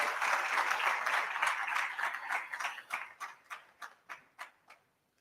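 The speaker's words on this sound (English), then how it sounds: "if we could just clap for ourselves again to come this morning" Conference audience at a leadership event in Islamabad clapping together, a steady wash of applause that thins into a few slowing, fading individual claps before stopping.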